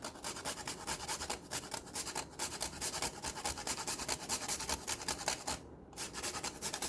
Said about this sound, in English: that's going to be about 30 scrapes on this microplane grater